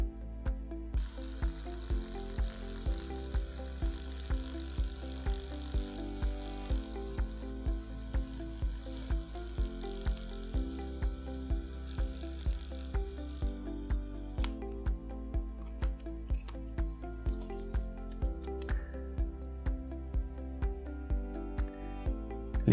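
A Broxo electric toothbrush runs continuously, its motor buzzing with a rapid, evenly spaced mechanical clicking pulse from start to finish.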